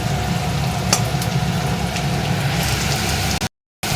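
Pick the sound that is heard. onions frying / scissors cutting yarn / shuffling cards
onions frying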